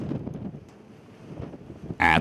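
Steady low wind rumbles and buffets the microphone outdoors at a coastal racetrack in East London during a race meeting, with a short burst of a voice cutting in at the very end.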